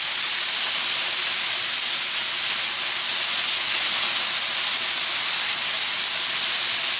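Beef searing in a pan over high heat gives a loud, steady, close sizzling hiss that continues without a break, with no talking.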